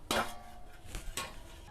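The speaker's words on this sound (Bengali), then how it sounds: "এবার আমি একটা ছাঁকনির সাহায্যে আমের কাঠটা ছেঁকে নেব।" Cooked raw mango pulp being pressed through a strainer, with a few sharp metallic scrapes and clinks of a utensil against the strainer, spaced out and close by, with no talk.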